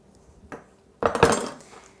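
A knife slicing a squash in half for a simple sweet squash dish: a light tap, then a loud crunching cut through the firm flesh that fades over a second, close and alone.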